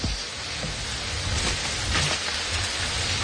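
Rain falls steadily in a radio drama sound effect, a dense, loud hiss of drops on a surface with no talk over it.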